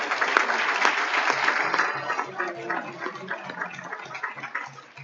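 An audience stands and applauds semifinalists at a town board meeting, a thick wash of clapping that is strongest at first and slowly thins and fades out.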